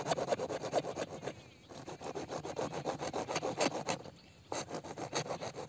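Hand saw cutting through a farm irrigation pipe, close and rhythmic, with rapid rasping strokes broken by two brief pauses.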